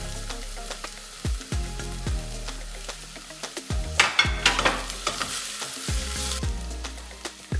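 Garlic sizzling in hot oil in a pan while making pizzaiola sauce, a steady close fry crackle broken by a few sharp clatters of a spoon or utensil, with louder bursts of spitting partway through.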